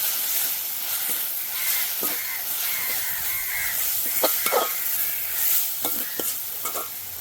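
A Sri Lankan village-style prawn curry base being stirred and sautéed in a pan, a steady sizzle broken by spoon scrapes, with crows cawing in the background.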